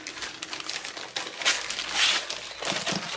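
Crinkly glitter cardstock and tissue paper are handled close up, making a steady, soft rustling and crackling with a few brighter crinkles and no talk.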